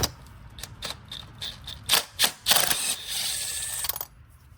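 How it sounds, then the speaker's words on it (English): Ratchet wrench with a spark plug socket working a car's spark plug loose: a series of close, sharp mechanical clicks and a few louder rasping ratchet bursts, with no talk. "now we're going to go down there and take off the first spark plug"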